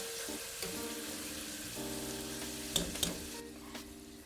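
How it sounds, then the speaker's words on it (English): Onions and vegetables for a Tuscan Chianti beef stew sizzle in a pot, a soft, steady fry with a faint hum beneath and a few sharp clinks of the spoon as it is stirred. "I can see those onions are starting to sing"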